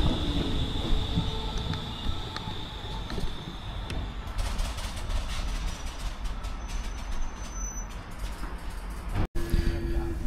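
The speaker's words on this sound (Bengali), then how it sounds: "তো এই ট্রেন ধরে আবার আমার কাজে যেতে হবে।" A train in Sweden rolls along with a continuous rumbling roar, faint wheel squeal and scattered clicks, heard from nearby with a brief dropout near the end.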